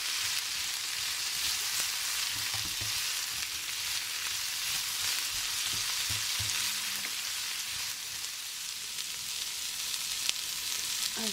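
Chicken sizzles and fries steadily in a hot pan while being stir-fried for Thai satay, a dense continuous crackle with occasional soft stirring scrapes and no talk.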